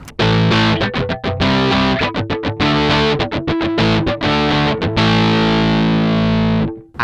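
Traveler Guitar Speedster Deluxe electric guitar played dry with no delay or reverb, loud distorted strummed chords and short choppy stabs in a steady rhythm, ending on a long sustained chord that fades.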